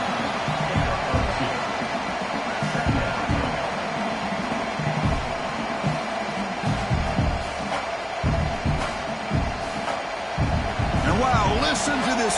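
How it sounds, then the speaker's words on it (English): Loud stadium crowd roaring in a college football video game, a dense continuous rumble with bursts of cheering and thuds, while a commentator talks over it. "Listen to this crowd noise. This stadium is vibrating."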